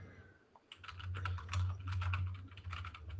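Rapid clattering of keystrokes on a computer keyboard, irregular bursts of clicks close to the mic over a steady low hum, continuing for a few seconds.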